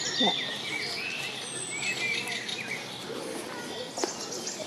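A small bird calls in a spa park in Połczyn-Zdrój, faint high chirps scattered through steady outdoor ambience, with soft voices nearby.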